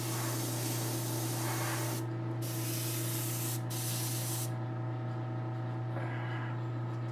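An airbrush sprays paint onto a model kit, a steady loud hiss over a constant low hum, with brief drops and sputters in the spray.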